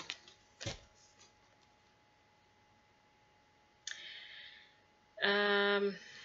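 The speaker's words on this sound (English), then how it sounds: "It takes a while to shuffle." Tarot cards being shuffled during a card reading, a few quiet clicks and riffles at first, then a brief papery rush and a final louder burst of snapping cards, otherwise near silence.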